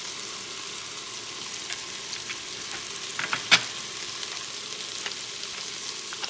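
Spices for dal tadka sautéing in an Instant Pot, giving a steady soft sizzle with a few light clinks and scrapes from stirring, one brief sharper knock near the middle.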